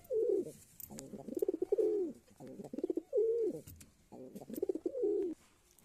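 Pigeons coo in a home loft where some pairs have chicks, repeating low, throaty rolling calls in several phrases with short pauses between them. The birds sound close, with no talking.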